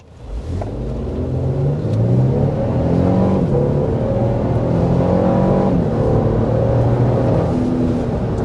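A 2024 Lexus GX 550 engine pulls hard under acceleration, a loud, steady drone rising through the gears with clear upshifts, close inside the cabin and heard alone without talk.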